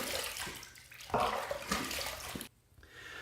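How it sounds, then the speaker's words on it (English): A Merkur HD 34C safety razor is rinsed under a running tap, giving a close, steady gush of splashing water that swells briefly midway and cuts off sharply near the end before a softer trickle returns. "let's rinse"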